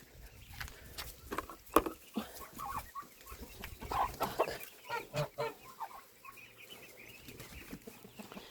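Backyard poultry: chickens and young chicks clucking with geese, in short irregular calls close by, with someone briefly speaking.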